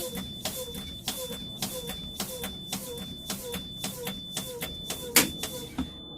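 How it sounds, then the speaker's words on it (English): A bus's low air pressure warning buzzer sounds continuously with a shrill, high steady tone during an air brake test, while regular clicks tick along beneath it in an even rhythm. "My buzzer and warning came on at 60."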